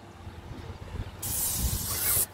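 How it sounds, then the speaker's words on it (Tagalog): Paint spray hisses loudly and steadily for about a second on a farm shed, cutting off abruptly, after a stretch of quieter outdoor rumble and handling knocks. "Nag-spray kami ngayon ng shade."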